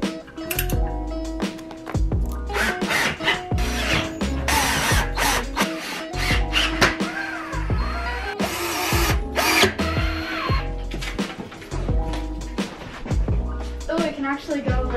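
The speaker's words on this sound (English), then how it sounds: "Once we got the drill going, it was like super easy." Power drill driving fasteners while a metal bed frame is assembled, in repeated whirring bursts with metallic clanks and knocks between them, close and loud, while people talk over the work.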